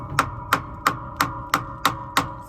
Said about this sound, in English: give me a hammer and I'll see if I can just tap it around